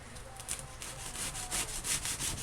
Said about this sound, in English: we're going to cut the bread